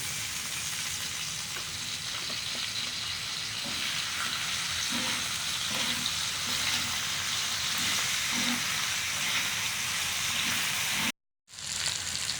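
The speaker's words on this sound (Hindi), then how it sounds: "घी गर्म हो गया है, अब इसमें आलू शामिल करेंगे।" Potatoes fry in hot ghee on a tawa with a continuous, crackling sizzle that holds steady and close, broken only by a brief cut of silence near the end.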